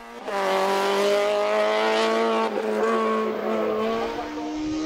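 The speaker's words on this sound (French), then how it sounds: "la BMW Compact qui court ponctuellement en championnat de France." A BMW Compact race car at the Dunières hillclimb in France, its engine note droning loud and steady as the car powers past nearby, the pitch holding high with a slight dip midway.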